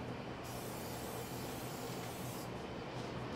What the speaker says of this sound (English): spraying the pan so nothing sticks